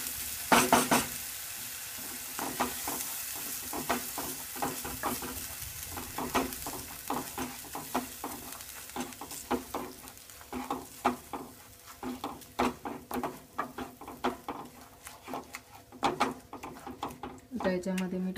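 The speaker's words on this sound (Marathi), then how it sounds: "कांदा आणि खोबऱ्याचं वाटप जे बनवलंय। चांगलं असं तेलामध्ये परतून घ्यायचं।" Onion and coconut paste sautéed in oil for rajma masala, with frequent scraping stirs and a low sizzle in a busy, close rhythm as someone talks over it.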